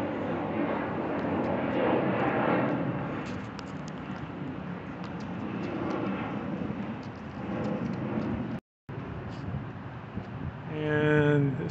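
Jet airliners, including United and Lufthansa, on the runway at Chicago O'Hare airport, giving a broad, steady roar heard from a distance, with a short dropout and a louder swell near the end.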